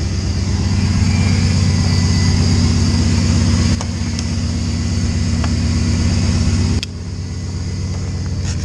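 Truck engine idling after an E85 cold start in extreme cold around minus 50 degrees, a loud steady low rumble that continues throughout with slight drops in level, no talking.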